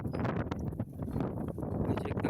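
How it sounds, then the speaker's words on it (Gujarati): Cold wind gusting straight into an outdoor microphone on a rainy day, a loud continuous rumbling buffet that swells and dips without pause and with no speech. "એટલો મતલબ ઠંડો પવન ફૂંકાઈ રહ્યો"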